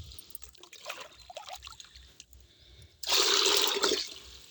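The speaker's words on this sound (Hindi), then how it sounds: "एक बॉक्स के लिए मैं 2 मग इस तरह से देखिए पानी लूँगी।" Water pours from a mug into a thermocol box while a liquid potassium fertilizer is mixed at home, heard as soft trickling and splashing, then a louder, fuller gush in the last second and a half.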